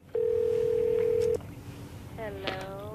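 A telephone sounds a long steady dial tone, then a warbling ring tone starts as a call is placed, fairly loud and close against a low background hum.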